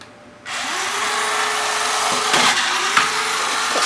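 Loud, steady whine of small cheap electric motors on an Arduino robot running continuously, with a couple of brief louder bursts and pitch shifts; no talking.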